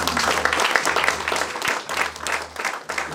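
A church congregation applauding to acclaim the Lord during a sermon on baptism, steady loud clapping from many hands in rhythmic waves, close and sustained.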